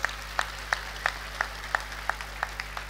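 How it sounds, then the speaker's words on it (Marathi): Audience clapping in steady, even unison beats, about three per second, at a public speech event in Amravati honouring women. The claps are crisp, moderately loud and evenly spaced over a low background hum. "टाळ्या जरा जोरात वाजल्या पाहिजेत"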